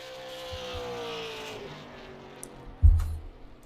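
A race car running laps in an ALL OUT SLM Championship race at Nashville, a distant engine drone rising as it nears, then a sharp loud pass close by before fading.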